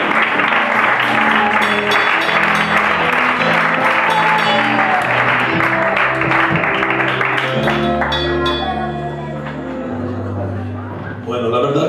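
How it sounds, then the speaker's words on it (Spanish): A church congregation applauds during a Spanish-language service, a dense, continuous clatter of clapping hands layered over voices and sustained instrumental music, loud and close throughout. "Podemos darle fuertes aplausos al Señor."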